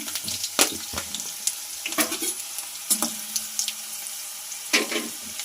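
Chana dal, urad dal, cumin and asafoetida dropped into hot oil for a curd poha tempering crackle and sizzle in short bursts, with spoon stirs and scrapes in the pan nearby.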